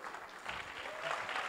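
An audience at a Mule Day liar's contest applauds to welcome the MC and the judges, a dense and steady burst of clapping from a crowd that lasts throughout.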